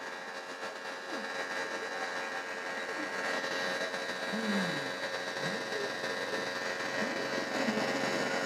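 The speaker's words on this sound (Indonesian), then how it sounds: "di sini kipas radiator nyala ya" A motorcycle radiator fan runs with a steady, even whir, close and moderately loud, holding constant throughout with no voices over it.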